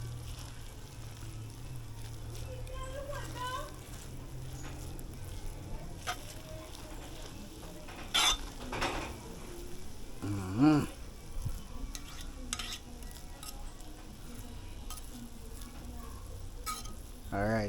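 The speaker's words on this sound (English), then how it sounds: "So we have to now stir it up." Turkey necks sizzle steadily in a pot on the stove, a low continuous frying hiss with a few louder clunks and scrapes as they are stirred, close and fairly quiet, with no talking.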